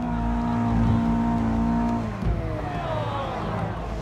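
A Mark 1 Ford Escort rally car revs hard and loud close by, its engine note holding steady and then shifting pitch as it labours uphill, with no voices over it.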